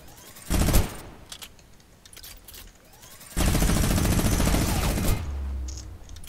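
Gunfire in a video game, with one short loud burst early on, then a longer sustained volley of rapid shots lasting a couple of seconds, fairly close and forceful.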